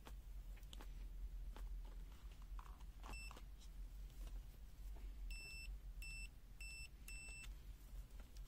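A Peakmeter PM8213B card multimeter gives short, faint, high continuity-test beeps: one brief chirp, then a quick series of four, over a low background rumble.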